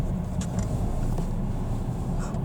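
Mercedes C-Class W204 reversing slowly, a steady low engine rumble heard from inside the car with faint creaks and small clicks, quiet and unchanging throughout.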